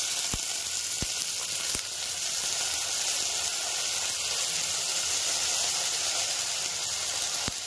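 Cut potatoes go into a pan of browned onions, giving a loud, even hiss of frying that holds steady throughout, with a few sharp taps of a utensil against the pan.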